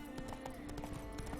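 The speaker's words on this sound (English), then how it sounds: "Hey, wild horses, look at that." Wild horses' hooves in The Witcher 3: Wild Hunt, an irregular run of soft clip-clops at moderate distance over a steady game ambience hum, with no talking.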